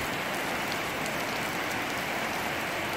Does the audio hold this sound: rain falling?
yes